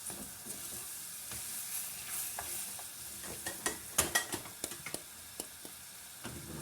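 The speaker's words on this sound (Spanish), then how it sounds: "Y cocinamos a fuego alto." Oats frying on high heat while being stirred in a pot, a steady soft sizzle punctuated by scraping stirs and small crackling pops that grow busier midway, close and alone.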